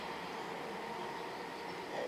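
A suburban train passes through a station without stopping, heard as a steady, fairly faint broadband rumble and rush of wheels on rails, with no voices.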